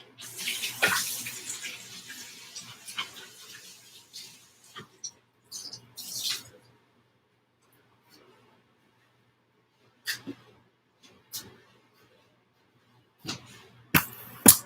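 A kitchen tap runs as hands are washed, with water splashing loudly for several seconds before falling mostly silent, followed by a few short splashes and clicks.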